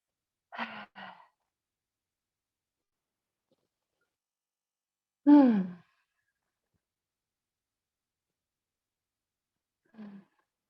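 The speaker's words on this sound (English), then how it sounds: "Take 3 big breaths, 3 big exhales." Deep, slow breathing during a hatha yoga session: a soft double exhale, then a long, strong breath out a few seconds later and a faint final sigh. Each breath stands alone in near silence.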